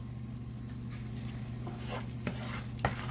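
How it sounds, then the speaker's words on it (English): Cilantro being stirred into a sizzling taco filling in a pan, with a steady frying hiss and low hum underneath and a couple of soft scraping clicks of the spoon near the end. "We're going to stir that in."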